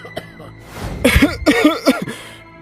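A burst of harsh, repeated coughing close by, several hacking coughs in quick succession with throaty, strained sounds.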